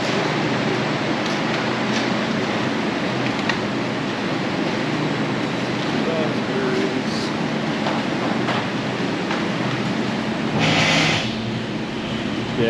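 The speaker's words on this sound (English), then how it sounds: "we just got a basket that makes noise" Noisy shopping basket rattling and clattering steadily as it is pushed through a store, a continuous rough rumble with faint background sounds.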